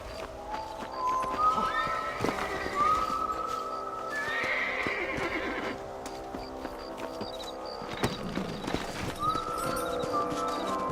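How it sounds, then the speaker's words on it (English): Horses in the video game Red Dead Redemption whinny several times over rhythmic clip-clop hooves, with a busy game-like backdrop of tones and effects. "Let's get back on the horses"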